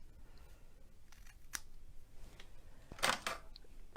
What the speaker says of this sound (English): I'm going to cut it because you can see the line where to cut it.